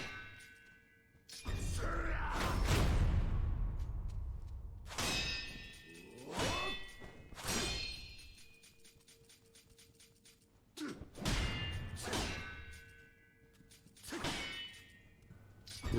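Sword deflections in Sekiro, sharp metallic clangs and rings in quick clusters, separated by whooshing swings and short pauses, loud and close with ringing tails.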